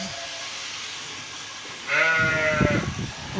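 Hungarian sheep being sheared with a shaft-driven shearing machine, one clear, loud, wavering bleat over a steady mechanical hum.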